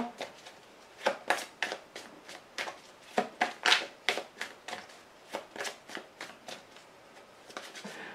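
Tarot cards being shuffled by hand, a quick run of crisp riffling flutters and soft slaps repeating at a steady pace, close and clear.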